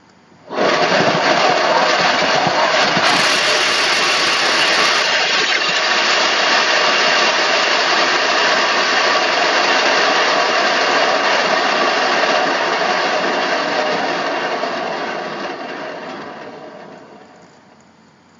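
A spinner whirls an acrylic paint pour, giving a loud, steady motor whir and rushing drone that holds evenly for many seconds, then winds down and fades near the end.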